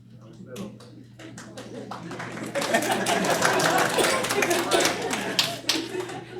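A round of applause breaks out in a room during a school board work session. A few scattered claps build into a few seconds of dense clapping, heard under people talking.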